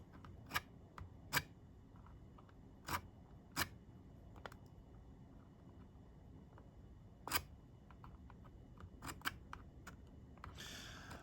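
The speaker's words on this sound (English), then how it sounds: "move my file card out of the way, lock this, and I'm just going to scribe across" Steel calipers scribe a line across a plastic RCBS primer tray for a Lee Auto Bench Prime, giving scattered, faint, sharp scratching ticks in a quiet room, with no talking.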